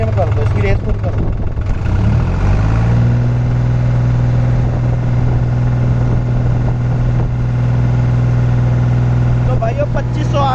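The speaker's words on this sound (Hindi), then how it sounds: "फुल आरपीएम कर दो इसकी रेस, फुल कर दो।" A New Holland 5510 tractor engine runs loud and close, climbing from a rough idle to a steady high-RPM drone, with people talking over the engine throughout.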